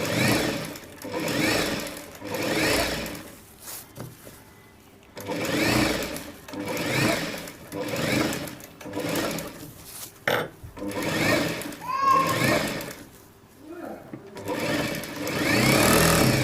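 A sewing machine stitches a Rajputi suit in repeated whirring runs, each lasting a second or two, separated by brief pauses, close and fairly loud with no talking over it.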